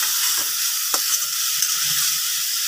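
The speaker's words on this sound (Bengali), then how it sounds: "মশলাগুলো কষানো হচ্ছে খুব সুন্দরভাবে।" Ground coriander, ginger and garlic being fried for tangra fish bhuna, a steady close sizzle with a couple of brief stirring scrapes.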